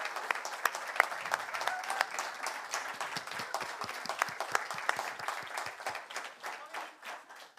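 Applause from an audience at an award ceremony for an agtech innovation competition, a dense run of many hands clapping at moderate loudness that gradually thins and fades toward the end, no talk over it.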